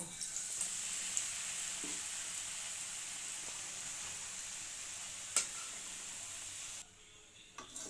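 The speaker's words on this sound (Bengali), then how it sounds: "বাকি ডালগুলো একইভাবে ভেজে নেব।" Lentils fry in ghee in a wok (kadai), a constant soft sizzle with a couple of brief clicks, the hiss dropping away near the end.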